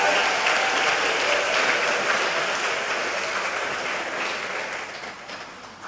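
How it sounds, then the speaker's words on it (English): A graduation audience applauds a graduate with sustained, dense clapping that fills the hall, steady and loud at first and easing slightly toward the end, with no voices over it. "Give her a round of applause"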